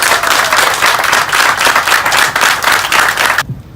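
Guests at Sarah and Thierry's wedding celebration give the bride's parents, Ginette and Gaétan, warm sustained applause from a crowd, steady clapping in pulsing waves that cuts off abruptly after a few seconds.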